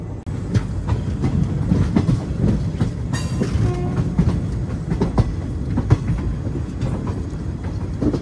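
Steady loud rumble of the Narsapur Dharmavaram Express passenger train running on rails between Gudivada and Vijayawada, with rhythmic wheel clacks and a brief high whine partway through, heard from inside the train with no talking.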